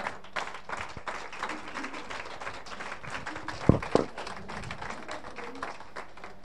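A worship congregation breaks into sustained applause offered to God during a church service, a dense, even patter of many hands clapping throughout, with a couple of sharper, louder claps near the middle.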